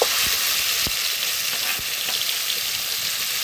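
Green chili paste with bay leaf and whole cumin sizzles in hot oil, a steady, bright, hissing fry close up, broken by a few faint clicks and taps.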